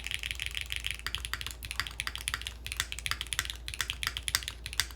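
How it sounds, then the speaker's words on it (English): Close, steady typing on a Game Boy DMG themed mechanical keyboard fitted with HMX FJ400 switches and its bottom mount removed: crisp, sharp clacks in quick irregular runs with short pauses between bursts. "let's see what this sounds like right now with the HMX FJ400s"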